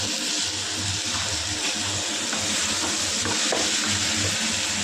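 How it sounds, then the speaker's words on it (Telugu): Onions and tomatoes for chutney sizzle and fry steadily in a pan, a constant close hiss with faint bubbling and soft low thumps throughout. "దీని మీద మూత పెట్టేసి కొంచెం వేయించేద్దాం"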